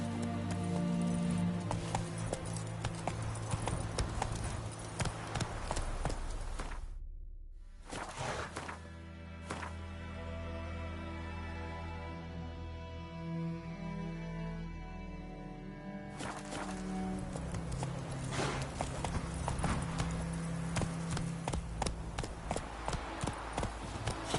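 Roach, a horse in The Witcher 3, gallops with steady rhythmic hoofbeats against continuous game music, pausing briefly midway before the clip-clop resumes and carries on to the end.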